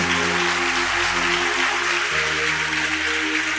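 Audience at a Christian gospel sermon clapping, a dense, continuous wash of applause over sustained keyboard chords.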